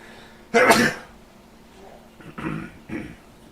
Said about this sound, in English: One moment, I'm gonna sneeze.